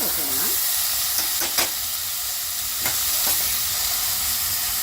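Mustard seeds and urad dal sizzle and crackle in hot oil, with a loud continuous frying hiss broken by a few sharp pops and faint stirring scrapes.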